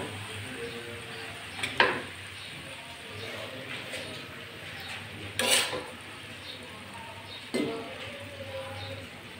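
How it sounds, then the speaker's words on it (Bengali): Cooked gourd-leaf curry with potato and lentil dumplings is served from a pan onto a plate, giving three or four distinct metal-on-plate scrapes and clinks spaced a few seconds apart over quiet background noise. "আর একটা প্লেটে তুলে নিচ্ছি"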